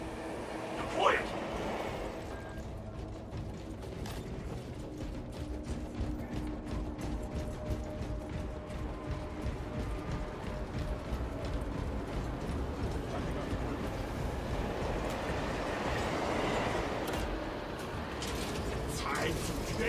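A train in a sci-fi video game rolls along with a steady mechanical rumble and faint rhythmic clatter, moderately loud and continuous, with a brief metallic accent near the start.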